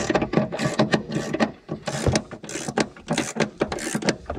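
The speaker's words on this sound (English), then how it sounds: "got our two nuts tightened for the upper shock mount here" Nuts are tightened on the upper rear shock mount of a 2002 Cadillac Deville DTS, giving a dense run of close mechanical clicking and ratcheting with short bursts and brief pauses and no talking.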